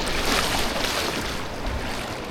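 Rushing creek water at a crossing below Beaver Falls in Havasupai, a steady broadband wash of flowing water heard up close and continuously, with no talk.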